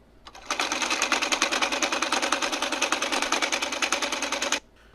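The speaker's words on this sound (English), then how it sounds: "she began using the sewing machine, sewing a leather cat suit" A sewing machine stitches a leather cat suit in a steady, rapid run of mechanical clatter lasting about four seconds, close and clear, then stops abruptly.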